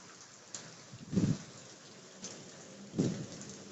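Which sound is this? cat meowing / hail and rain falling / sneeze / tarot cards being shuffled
hail and rain falling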